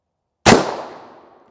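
A single loud, close rifle shot from a .300 Win Mag fired at NIJ Level IV body armor, a sudden sharp blast after silence that decays over about a second.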